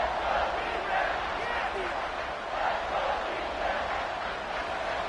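Football stadium crowd roaring steadily near the goal line on a third-and-goal red zone stand, a broad continuous wash of massed voices that stays loud throughout with slight swells.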